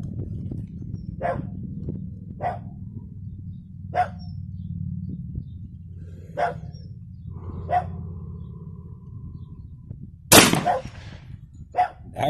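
Practice shots from a 10mm 1911 pistol ring out outdoors as sharp reports spaced a second or two apart, about eight in all, with a louder crack near the end over a low background hum.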